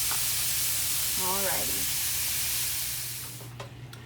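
Chopped onions and garlic sizzling in a frying pan give a steady bright hiss that fades toward the end, while a person says a brief word over the frying.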